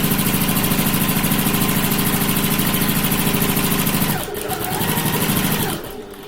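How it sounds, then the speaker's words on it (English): Sewing machine running fast and steady while stitching a handbag strap, a loud, even mechanical whir with rapid needle pulses that drops in pitch and then stops near the end. "I'll just keep sewing straight onto it."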